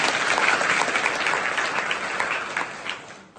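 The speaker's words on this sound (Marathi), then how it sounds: "त्यासाठी जोरदार एकदा टाळ्या वाजवा।" A large audience at a government child-nutrition campaign event claps loudly for anganwadi workers, a dense, sustained round of applause that slowly thins and fades toward the end.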